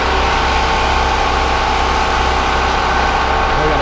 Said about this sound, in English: I got a truck next to me with an APU running, so I'm not sure if you're going to be able to hear me or not.